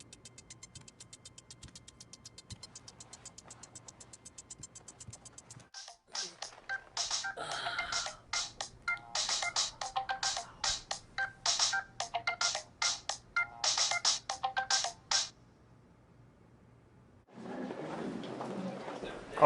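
Telephone ringing unanswered in a tense action scene in Kazakhstan: repeated bursts of electronic ring tones ring on and on, moderately loud, with a steady hum beneath, then a different noisy sound at the end.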